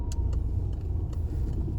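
A car engine hums steadily at low pitch in first gear while driving gently along a country-road test route, a continuous close drone with faint ticking and no talk.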